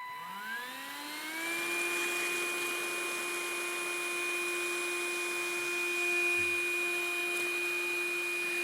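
A vacuum cleaner fitted with a wet nozzle spins up with a rising whine, then settles into a steady loud motor roar and high-pitched hum.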